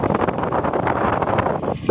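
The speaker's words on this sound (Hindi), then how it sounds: "ये हवा की साउंड सुन के आप समझ पा रहे होंगे कि कितनी ज़्यादा अच्छी हवा चल रही है, ठंडी ठंडी हवा।" Cool wind blows across a green village, buffeting the microphone in a constant loud rumbling roar with no voices over it.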